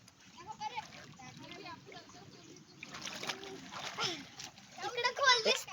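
People swim and splash in open water while children and adults talk and shout nearby. The splashes grow louder and more frequent toward the end.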